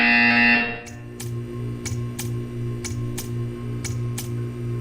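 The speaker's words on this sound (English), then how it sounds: "You will hear a buzzer." In the Portal 2 video game, a loud electronic buzzer sounds briefly before giving way to a low steady machine hum with a series of evenly spaced sharp ticks.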